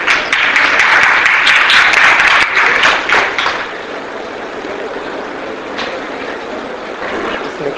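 Loud applause from the audience at a teachers' workshop in Meerut, a dense burst of clapping that fades after about three seconds into a quieter room murmur.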